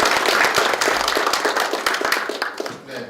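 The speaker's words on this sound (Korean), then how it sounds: "박수 한번 부탁드리겠습니다." Audience applause at a Democratic Party budget policy meeting in Seoul, a burst of many hands clapping close and lively, then thinning and fading toward the end.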